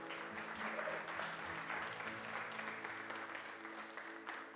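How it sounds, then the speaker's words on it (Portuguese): Steady applause from a church congregation during a Portuguese-language service, a dense wash of many hands clapping at moderate distance throughout, with faint crowd murmur beneath. "Dê uma salva de palmas ao Senhor."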